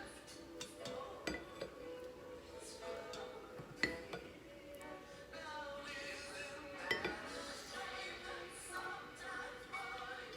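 Meatballs are set into an Instant Pot with tongs, giving small irregular clinks and taps of metal against the pot, fairly quiet, with a person talking over them.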